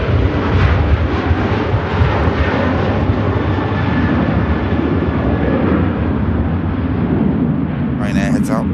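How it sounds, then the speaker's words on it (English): Ryanair Boeing 737 departing Manchester Airport bound for Marrakesh, a loud, steady broadband jet engine roar that holds throughout, with a brief higher whine near the end. "Ryanair heads out."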